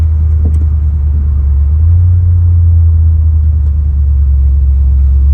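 An old Mopar truck drives along with a steady, loud low rumble, its engine note dipping and rising briefly as it shifts gears, continuous and close throughout.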